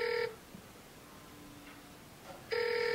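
Two bursts of an electronic phone ring on a Garmin nuvi 765T GPS unit paired over Bluetooth, signalling an incoming cell phone call: a stacked, buzzy tone pattern at the start and again near the end, separated by quiet room hum.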